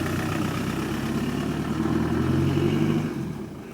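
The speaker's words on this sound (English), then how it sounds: "This is the third youngest 300 TDI Defender in the UK driving away." A Land Rover Defender 300 TDI diesel with low mileage rumbles steadily with a loud, deep engine drone that softens slightly at the end as it pulls away.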